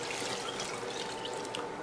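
Water is poured into a couscous mixture of corn, peas, olives, sardines and tomato sauce, giving a soft, steady trickle with no one speaking.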